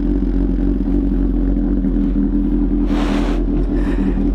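A Kawasaki H2 Carbon motorcycle warming up, its engine holding a loud, steady low idle rumble throughout with no revving, and a brief rustle of noise near the end.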